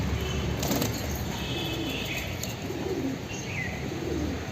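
A black pigeon cooing in soft, repeated low coos at moderate distance over a steady outdoor hiss, with a few faint chirps and no talking.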